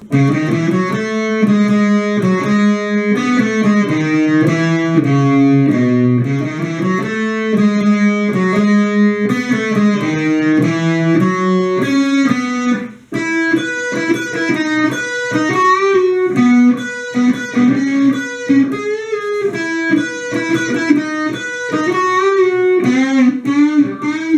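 A sustained melodic distorted electric guitar solo with gliding, bending notes over steady accompaniment, thick and continuous, with one brief dip midway before the line resumes; a song's solo.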